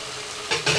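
Mutton goes into spice paste frying in oil, giving two quick bursts of hissing sizzle over a steady low background, close and fairly loud.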